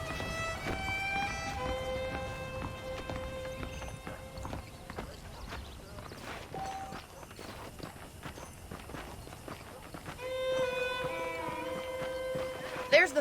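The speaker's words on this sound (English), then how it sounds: "The horses are saddled up over here" Saddled horses in the Red Dead Redemption video game clip-clop along at a walking pace, steady hoof beats under layered western music, with an occasional snort.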